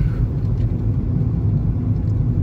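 A car passing along a quiet back road in Lady Lake, Florida, a steady low rumble of engine and tyres close by, with no voices.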